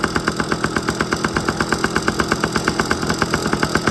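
A 1997 Yamaha PW50 shaft-drive two-stroke engine runs at a steady idle while warming up, its rapid even popping pulses loud and close with no talk.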